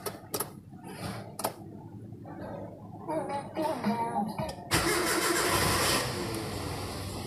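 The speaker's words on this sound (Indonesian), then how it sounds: "Oke, kita langsung sambil nyalain aja mobilnya ya." A car engine cranks and catches, then revs up into a steady idle, heard fairly close with faint talk and handling noises beforehand.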